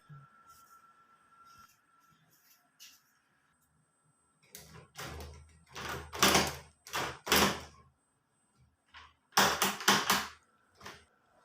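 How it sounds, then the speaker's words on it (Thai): A new screw-cap style bathroom door knob being turned and tested, giving close clusters of sharp metallic clicks and rattles after a quiet start with a faint hum. "ตรวจสอบลูกบิดชุดใหม่นะครับผมว่าใช้งานได้ไหม"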